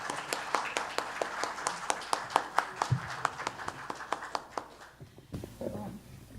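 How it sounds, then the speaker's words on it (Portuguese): Welcoming applause for a guest speaker at a university literary talk, heard as distinct, fairly regular hand claps that thin and fade out near the end, followed by a voice beginning to speak. "eu peço a todos aplausos de boas-vindas."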